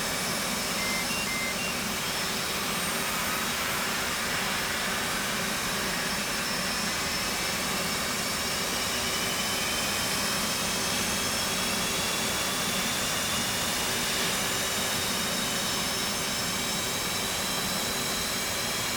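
A jet engine runs steadily in the DCS flight simulator game, giving a continuous broadband roar with a high whine laid over it. It holds at a constant, fairly quiet level for about nineteen seconds, with no talking.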